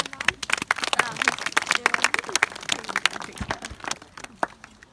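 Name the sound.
audience applause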